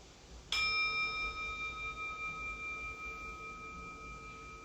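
A single gong stroke opening a meditation session, one clear struck tone that rings out and slowly fades with a shimmering sustain in a quiet room.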